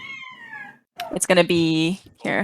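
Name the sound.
pet cat meowing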